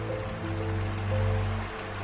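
Nohkalikai waterfall, plunging off a high misty cliff in India, gives a steady, distant broadband roar that swells slightly midway.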